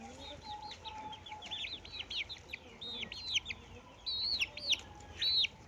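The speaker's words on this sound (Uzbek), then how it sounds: "Baba xo'roz." A rooster gives a run of short, high clucks over about five seconds, close but fairly soft, with rising bursts near the end against a quiet farmyard hiss.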